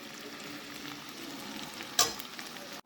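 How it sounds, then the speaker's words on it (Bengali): Spice masala with small soybean chunks sautés in a pan without water, a soft continuous sizzle under stirring, with one sharp utensil clack near the end. "এখন মশলাটা দিয়ে আমি কষিয়ে নিচ্ছি।"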